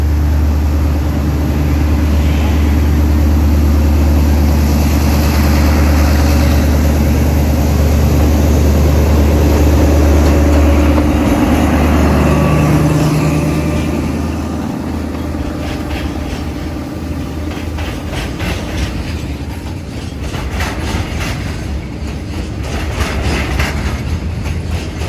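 Thai SRT freight train 721 pulls out of Surat Thani station, a loud, close, heavy diesel rumble building as it accelerates, with wagons rattling and clacking past more and more quickly.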